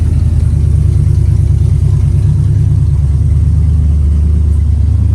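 A 1956 DeSoto Hemi V8 runs after starting, a loud, close, steady low rumble with no let-up throughout.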